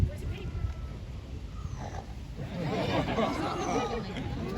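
A person grunts and snorts in a pig-like voice over a steady background murmur, the imitation growing louder toward the end.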